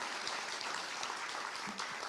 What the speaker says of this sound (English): BCSS, yes, that deserves a clap, absolutely.